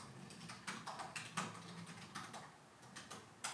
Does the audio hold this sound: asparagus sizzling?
no